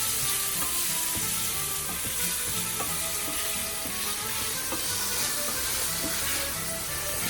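Tomatoes and garlic with salt sizzle in a pan over medium heat, giving a steady, dense frying crackle with small pops throughout and no voices.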